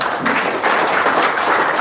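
An audience in a room during a religious talk breaks into a short burst of clapping, a dense and fairly loud patter lasting under two seconds.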